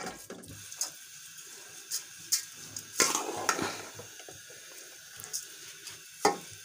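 A spoon stirs rice in a pot while making gajrela, with a series of soft scrapes, wet clicks and knocks against the pot in an irregular rhythm.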